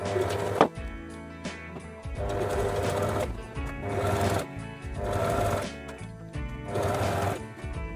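A sewing machine stitches a straight seam on a bib, running in several loud, close rhythmic bursts of rapid needle clatter separated by short pauses.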